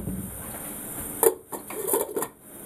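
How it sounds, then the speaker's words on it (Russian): A lid goes onto a pot of spiced herring brine on the stove, giving a few quick metallic clinks and a short scrape over quiet background, with no talking. "накроем крышкой"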